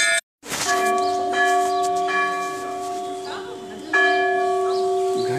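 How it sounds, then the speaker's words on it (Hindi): Temple bells ring during aarti at the Bagnath temple, bright metallic strikes with long sustained ringing tones that overlap and swell louder toward the end, close and dense, with a crowd murmuring underneath. "जिसमें सभी जो हैं स्थानीय लोग घंटी बजाएंगे और पूरे मंदिर की परिक्रमा होगी"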